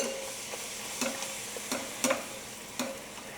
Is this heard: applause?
no